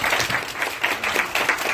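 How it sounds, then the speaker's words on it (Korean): An audience at an orientation for a summer English camp in America claps steadily for the teachers standing up, a dense, continuous round of applause from a moderate-sized crowd with no talking over it. "박수 한번 부탁드리겠습니다."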